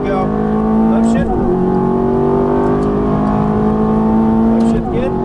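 A Ferrari F430's engine roars loud and steady on a track as it accelerates, its pitch climbing and then dropping sharply at an upshift before climbing again, with a voice talking over it.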